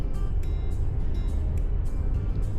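A lifted 2015 Chevy Suburban on a 7-inch lift with 35-inch tires driving a snowy mountain road, heard from inside as a steady low engine and road rumble with faint rhythmic ticking.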